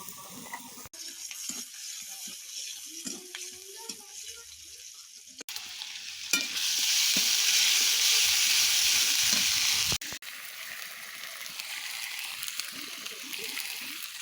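Crabs frying in a pan for a home-cooked curry, a loud steady sizzle that swells sharply in the middle stretch before easing back to a gentler crackle, with faint stirring and clinks.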